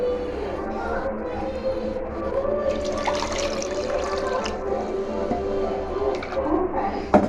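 Water is poured into a pan of mutton curry masala spiced with garam masala, a continuous liquid splashing and running sound that grows slightly busier midway, with a low background hum under it.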